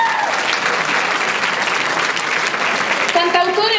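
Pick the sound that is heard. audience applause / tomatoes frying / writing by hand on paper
audience applause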